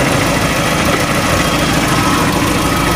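A 1987 Toyota Starlet EP71 with a 1.3-litre engine and manual gearbox idles steadily and loudly close by, a smooth, even rumble with no talking.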